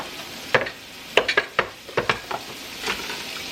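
Butter meets a hot pot for potato soup, giving short bursts of sizzling and a few clattering stirs and taps, spaced irregularly over a quiet background.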